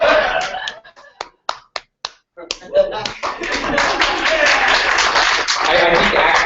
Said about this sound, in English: I just wanted to be the only person clapping for your little haggling